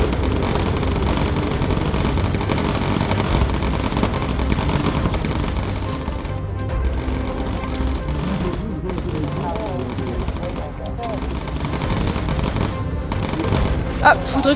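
Coastal turrets firing on a ship in the video game Bomber Crew: continuous rattling gunfire and machine-gun bursts with occasional booms, dense and fairly loud throughout, under someone speaking.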